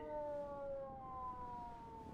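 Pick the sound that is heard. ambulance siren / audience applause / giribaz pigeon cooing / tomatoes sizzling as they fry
ambulance siren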